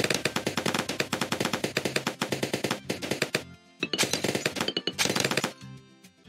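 A semi-automatic tower in the Bloons TD 6 video game fires in fast, evenly spaced rapid bursts of crisp gunshots, broken by brief pauses, with no talk over the shots.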